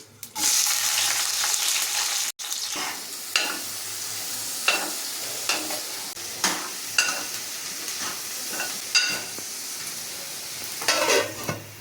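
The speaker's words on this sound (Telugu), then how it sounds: "ఆయిల్ హీట్ అయిన తర్వాత ఇందులో కొంచెం ఆవాలు జీలకర్ర వేసుకుందాం" Mustard seeds and cumin hitting hot oil for sambar, a loud burst of sizzling that settles into steady crackling, punctuated by regular sharp pops and spatters.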